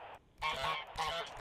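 Goose honks during a goose hunt, two loud bursts of overlapping nasal calls close by, separated by a brief pause, with no talking.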